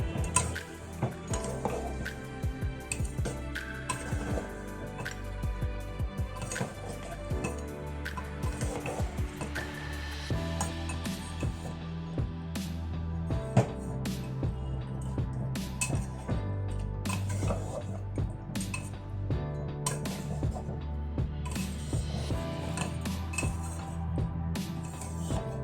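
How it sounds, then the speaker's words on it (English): A spoon scrapes and clinks against a metal handi while mutton is slowly stirred, with repeated light metallic knocks and a soft cooking bubble underneath. "Slowly and gently keep stirring."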